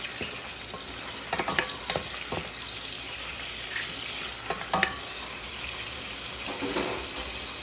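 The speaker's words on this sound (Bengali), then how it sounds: "আমি সবসময় এরকম আগে চিংড়ি মাছটা একটু ভেজে নিই" Prawns coated in turmeric powder fry in hot oil, giving a steady close sizzle with sharp stirring scrapes and clicks scattered throughout, no voices.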